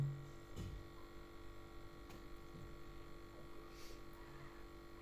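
An aeration air compressor runs for home-raised crayfish tanks, making a faint, steady electric hum that continues evenly throughout with no talking.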